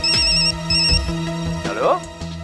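A phone ringtone plays a repeating electronic melody in short bursts, fairly loud, with other sounds layered around it.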